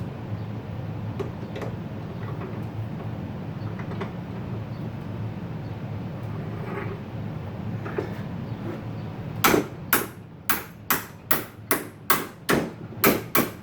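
A hammer strikes a spindle bearing held in a vise, landing about eight to ten sharp, loud metallic whacks in a steady rhythm after a stretch of low shop rumble.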